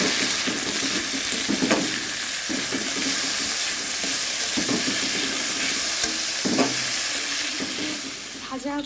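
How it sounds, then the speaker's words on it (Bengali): Spinach hits hot oil in a wok for a fish-head spinach dish, setting off a loud, continuous sizzle nearby, broken by repeated scraping stirs of the spatula against the pan. "এবার আমি এটাতে শাকটা দিয়ে দেবো"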